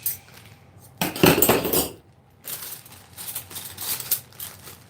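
Matching metal knives clatter and clink against each other while being handled at a gift opening, a loud burst of rattling followed by lighter scattered clinks.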